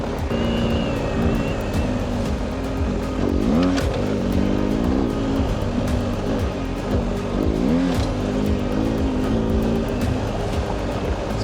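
A BMW R1250 GS Adventure motorcycle ridden at a fast pace on a semi-technical road, its engine droning steadily with rising and falling revs through gear changes and loud wind rush throughout.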